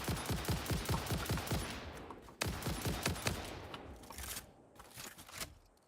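Enemy gunfire in the factory-building game Satisfactory: rapid bursts of shots crackle in quick repeated volleys, dense and loud at first, then thinning into scattered, fainter shots and echoes with no talking.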